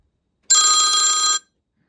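An iPhone 16 Pro 'Old Phone' ringtone imitating an old telephone bell: one continuous, loud, bright metallic ring lasting just under a second, heard alone and cut off cleanly.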